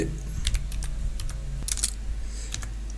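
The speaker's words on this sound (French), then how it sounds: "donc j'écris public" Fingers tap keys on a computer keyboard while entering a public key for a WireGuard VPN connection between two Windows PCs; a quick, irregular run of close, crisp clicks.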